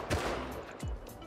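Two sharp gunshots crack out in the survival video game Rust, a quick pair about a second apart, fairly close and punchy, with no talking over them.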